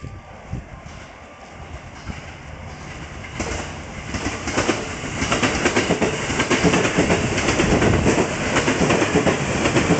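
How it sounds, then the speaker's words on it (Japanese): A rapid train bound for Kyoto on the JR West Nara Line rushes past, starting quiet and swelling into loud, steady rumbling and rhythmic wheel clatter that holds to the end. "横時快速京都行き通過を行います。"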